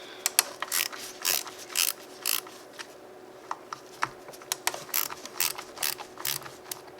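A ratchet wrench breaks loose Torx bolts on a Ford 6.0 Powerstroke diesel engine, giving bursts of rapid metallic clicking in an uneven rhythm, close and fairly loud over a steady background hum.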